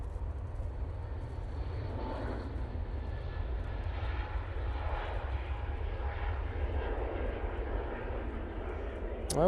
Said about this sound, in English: So it's British Airways now returning back to its base at London Heathrow.